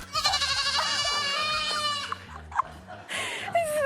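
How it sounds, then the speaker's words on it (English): Baby goats bleat in a TV studio, a run of loud, close, wavering cries one after another, with a short gap before a final bleat. "There are baby goats right now in the studio"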